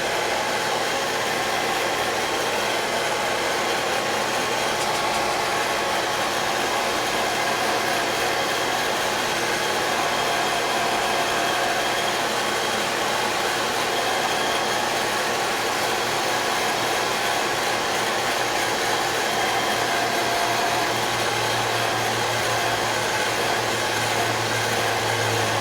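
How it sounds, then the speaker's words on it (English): A hair dryer blows steadily and close up to dry fresh paint on a scale model, a continuous loud whooshing whir that holds for the whole stretch without any talking. "I'm going to give it a quick dry with the hair dryer."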